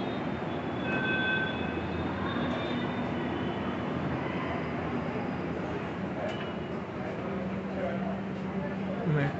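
Inside a Pune Metro train at Vanaz station, a steady rumble of rail transport fills the background with faint squeals, while a person talks over it.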